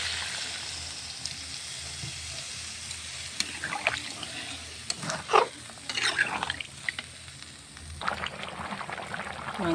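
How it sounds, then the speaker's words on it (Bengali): Meat curry broth with hot water added simmers in a pan, a soft bubbling sizzle with scattered pops and stirring clinks, moderately close, no speech. "মাংসের ঝোল সুন্দরভাবে ফুটছে।"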